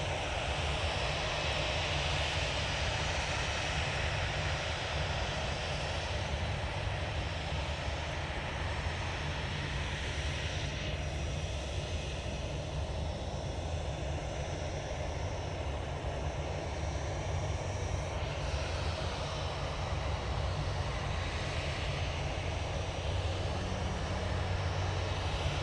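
A Brussels Airlines Airbus A319 jet lands at Manchester Airport, heard as a steady, loud, broad roar of engine and airflow that holds for the whole stretch with little change in level.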